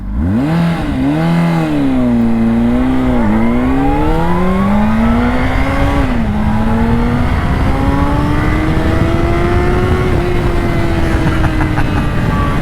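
A Honda CBR600RR sport bike pulling uphill in first gear on a public road, its loud, close engine note climbing and swooping as the revs rise and dip, then holding a sustained high whine.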